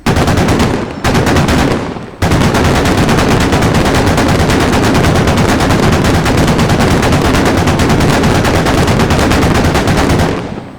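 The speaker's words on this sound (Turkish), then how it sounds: "patlayıcı mermi atacağım şimdi arkadaşlar" In the Squad video game, an armored vehicle's cannon fires explosive rounds in loud, rapid automatic bursts, with two brief breaks early on before a long sustained stream of fire.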